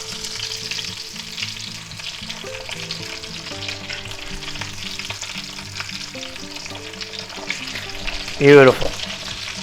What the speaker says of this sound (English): we're just going to go ahead and flip them over.